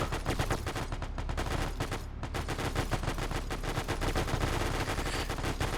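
Dense gunfire on a beach in a World War II video game, rapid overlapping rifle and machine-gun bursts rattling continuously at close range with a loud sustained roar behind them.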